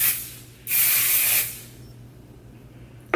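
Pantene Pro-V Airspray hairspray gives one close, steady spray burst of a little under a second over a faint background hum, then the room settles back to quiet.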